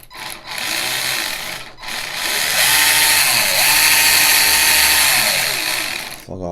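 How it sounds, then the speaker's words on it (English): A Tamiya TA-05R RC car's electric motor whines on a bench test, revving up and down through several loud, close runs with rising and falling pitch and short pauses between bursts. "I'll go flat out and then brake, then reverse, forward."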